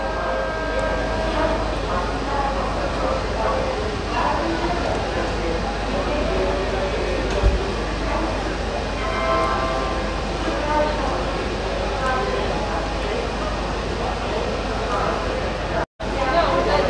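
The down Balurghat–Sealdah link express train pulls into a station, a steady loud rumble of wheels and carriages with a faint horn, while a person talks over it throughout.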